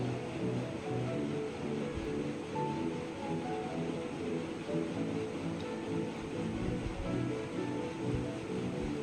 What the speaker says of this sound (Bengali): দেখছেন কি সুন্দর জল পড়ছে